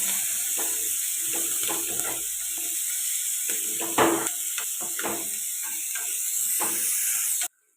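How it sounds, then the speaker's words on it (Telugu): Chopped onions and curry leaves fry in oil in a pan for a dried fish tomato curry, a steady close sizzle with scraping stirs and a brief louder burst midway, no talking. "కట్ చేసి పెట్టుకున్న ఉల్లిపాయలు ఇవి బాగా ఫ్రై అవ్వాలి"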